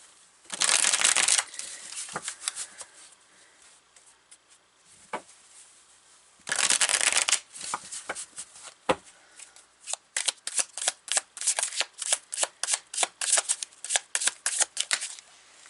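A deck of tarot cards is shuffled up close in several bursts, first two long riffling flurries, then a run of quick, regular slaps and flicks as cards are cut and handled.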